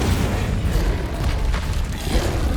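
A spell being cast in Hogwarts Legacy, a dense, loud roaring whoosh of fire that stays sustained and heavy throughout, with no talking.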